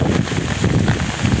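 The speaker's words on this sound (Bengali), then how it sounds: "বৃষ্টি হচ্ছে, চারপাশে মেঘ, আকাশেও মেঘ," Rain falls steadily under a cloudy sky while wind blows, making a dense, continuous hiss with rough gusty texture and no voices.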